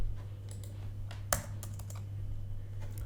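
Computer keyboard keys click softly in a few quick taps, then one firmer, louder press like an enter key, over a steady low electrical hum, with a few more light clicks after.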